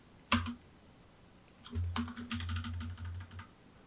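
Computer keyboard shortcut keys are pressed in quick succession: one sharp isolated click, then a cluster of clattering keystrokes, close and fairly quiet, with no talking.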